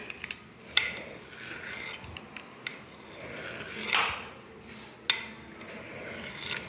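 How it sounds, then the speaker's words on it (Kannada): A knife cutting potato pieces in a home kitchen, producing soft scraping, rasping strokes with a few sharp taps against the board, close and fairly quiet. "ಆ ಚಾಕುದಿಂದ ನೀವು ಕಟ್ ಮಾಡ್ಬೋದು"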